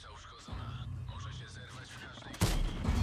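World of Tanks battle noise with a continuous engine rumble, then a sudden loud Object 260 tank cannon blast near the end.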